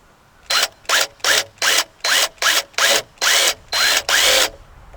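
A power drill drives screws into a pine fence board, about ten short, loud whirring bursts in a steady rhythm with brief pauses between them, close by and with no talking.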